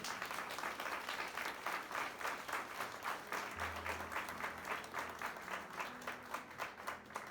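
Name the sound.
audience applause for the King in a church sermon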